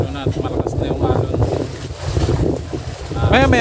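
Strong sea waves slosh around a small fishing boat out at sea, with heavy wind buffeting the microphone and a constant rushing roar as voices talk over it.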